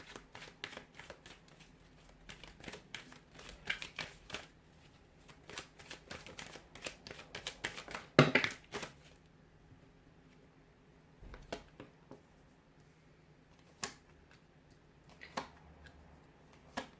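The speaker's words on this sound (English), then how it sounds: "we'll give the cards a shuffle" Tarot cards being shuffled by hand in repeated crisp riffling bursts, with pauses between handfuls and a few sharp taps as the deck is squared, close and fairly quiet.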